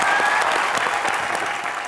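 A TV comedy show's studio audience bursts into loud, dense clapping for Tahir, a continuous close burst of applause with no talk.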